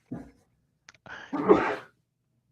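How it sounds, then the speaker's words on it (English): A single sneeze, preceded by a short sharp intake and a brief click, loud and close with silence around it. "hold on, I need to sneeze."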